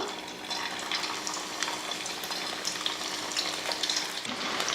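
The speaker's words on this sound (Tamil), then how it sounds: "இது போல் ஒவ்வொரு பீஸாக எடுத்து பொறிச்சு எடுத்துடலாம்" Dense, steady bubbling crackle of chicken pieces deep frying in hot oil, close and fairly loud throughout, with small clinks now and then.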